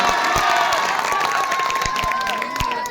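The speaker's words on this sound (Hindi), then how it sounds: "अब एक बार अपने कस्बे वालों के लिए जोरदार तालियां बजाइए" Crowd cheering, shouting and clapping at a mushaira poetry gathering, a dense steady roar of applause from a large audience with whistles and excited voices throughout.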